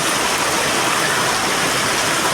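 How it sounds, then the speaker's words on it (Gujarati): Heavy rain falling steadily after a spell of intense heat, a dense, continuous hiss of water filling the whole clip, loud and close with no breaks and no voices. "બહુ સારો વરસાદ છે"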